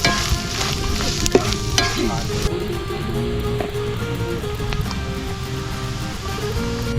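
Clams coated with coriander, chilli, pepper and turmeric powders and curry masala sizzle in hot oil in a pan, with steady frying crackle and occasional scraping knocks as they are stirred, close and continuous.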